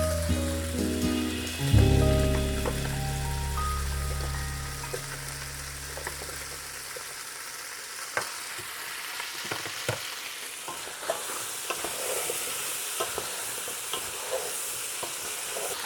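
Zucchini dropped into a hot pot for Korean gochujang jjigae, a low rumbling hum at first, then a loud steady sizzle broken by repeated clinks and scrapes of stirring.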